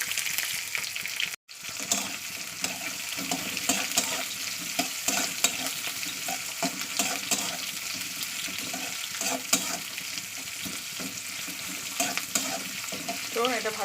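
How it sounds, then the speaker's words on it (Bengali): Onion, green chilli and chopped garlic fry with whole cumin in hot oil, giving a steady loud sizzle with stirring scrapes throughout, briefly cut by a short gap early on; no one speaks. "জিরেটা ভাজা হয়ে গেলে দিয়ে দিচ্ছি পেঁয়াজ, কাঁচা লঙ্কা আর যে রসুন কুচি রেখেছি সবটা একসঙ্গে দিয়ে দেবো"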